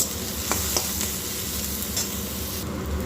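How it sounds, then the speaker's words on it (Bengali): Steady close sizzle of onions frying in a pan, with a few soft scrapes of stirring. "চলুন পেঁয়াজটা ভেজে নিই"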